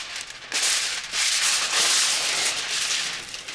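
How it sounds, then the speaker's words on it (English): Aluminum foil crinkles and rustles loudly and close by as it is laid over roasted salmon, coming in a few swelling, papery bursts. "I'm gonna cover it with aluminum foil for about 15 minutes"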